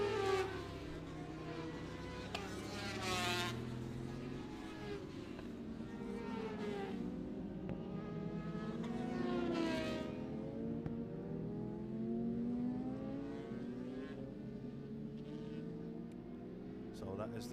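Classic superbikes on a warm-up lap in a Masters Superbike Championship round, their engines rising and falling in pitch as they sweep past at the circuit, under continuous commentary.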